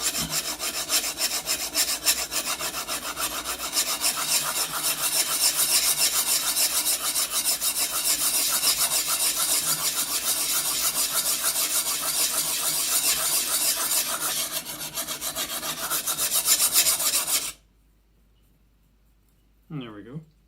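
Knife blade scraping steadily against a sharpening stone to raise a burr, a continuous close rasping grind lasting most of the clip before cutting off, followed by a brief bit of speech.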